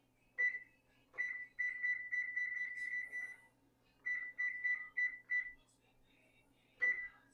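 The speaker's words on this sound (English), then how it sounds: "Set my timer again." Kitchen timer being set while cooking chicken au poivre with garlic green beans, giving a run of clear electronic beeps in short bursts, some quick and some held, close by with no talking.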